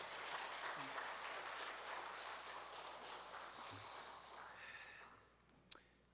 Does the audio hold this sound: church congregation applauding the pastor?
yes